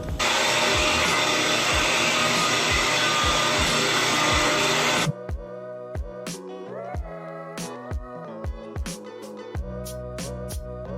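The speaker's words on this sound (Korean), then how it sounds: "바닥을 다 파고 청소기까지 다 하고" A vacuum cleaner clears debris from a bathroom floor after the old tile grout has been scraped out. A loud, steady suction roar runs for about five seconds and then cuts off, leaving intermittent clatter and tapping.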